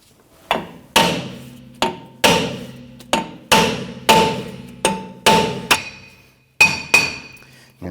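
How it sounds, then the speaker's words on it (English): A hammer raps repeatedly on the brake drum of a 2017-2020 Hyundai Elantra's rear brake, about ten sharp metallic strikes in a steady, uneven rhythm, each with a short ringing decay, close and loud with no talking. "tap around the drum itself to go ahead and loosen everything up, and then slide that drum off"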